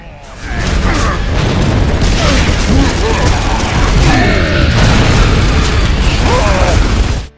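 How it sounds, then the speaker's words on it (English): Dense, continuous battle noise from the video game Gears of War: Judgment, with booms, sharp gunfire bursts, explosions and mechanical clatter layered throughout, loud and busy. "All the gunfire, explosions, and character voices are crisp"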